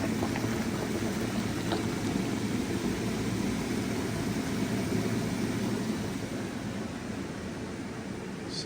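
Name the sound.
maple sap boiling in pan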